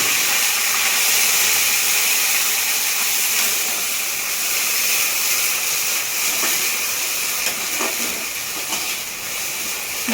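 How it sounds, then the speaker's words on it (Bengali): Water poured into a hot pan of fried onions while making mutton curry, a loud continuous steam hiss that holds steady and tapers slightly toward the end. "ও পাপা এরপর জল দেবে।"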